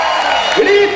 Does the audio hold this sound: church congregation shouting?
yes